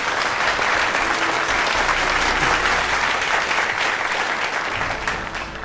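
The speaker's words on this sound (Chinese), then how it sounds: "掌声欢迎。" Sustained audience applause fills an award ceremony hall as a guest speaker is invited to the stage, loud and steady throughout, easing slightly at the end.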